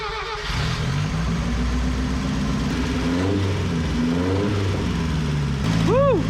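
The small engine of a 1984 Mazda miniature truck cranks, catches and runs rough with a few revs before settling into a steady idle, with a voice heard briefly.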